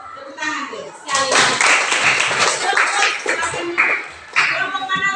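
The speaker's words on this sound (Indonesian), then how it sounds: "Tepuk tangan tuh sekali." A group clapping hands together at a gathering, bursts of close, lively claps mixed with children's voices and chatter, pausing briefly before a final round.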